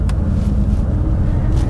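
BMW 7 Series driving through Paris streets, a steady low engine and road rumble heard from inside the car, with faint brief clicks over the drone.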